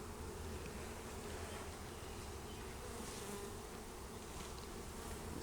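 Honeybees buzz steadily around a newly installed hive, a dense continuous hum of many insects close by that holds at an even level throughout, with no voices.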